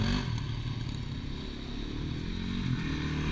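Yamaha YZ250FX dirt bike engine running steadily at close range, a continuous low rumble with rapid clattering texture and slight rises in revs, no talking over it.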